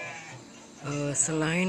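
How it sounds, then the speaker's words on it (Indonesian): Female goats on a farm bleat in a couple of short, wavering calls in the second half, mixed with nearby talking. "Ini kambing betina yang siap untuk produksi"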